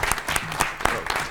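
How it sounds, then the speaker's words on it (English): A round of applause at a school district board meeting, with a room of people clapping in a brisk, uneven patter of sharp hand claps at moderate distance for a brief moment. "Let's give Matt Heino a round of applause for his work"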